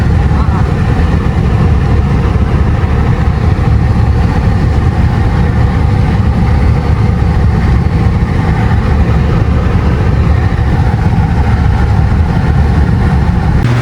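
A truck with a swapped-in 7.3 diesel engine, replacing a 460 gas engine, runs steadily with a constant low rumble throughout, loud and close, with no clear talk over it.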